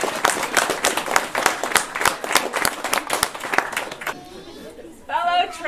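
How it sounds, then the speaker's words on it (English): An audience at a Christmas stage production claps enthusiastically in a dense, lively burst lasting about four seconds, then the applause stops abruptly and a single voice begins speaking. "let's give them a round of applause"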